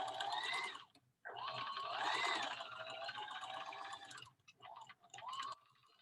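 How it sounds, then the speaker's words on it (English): A sewing machine runs zigzag stitching over a seam during a costume technology sewing lesson, with close, steady bursts of mechanical whirring that pause briefly twice before resuming. "I'm going to zigzag over my stitch"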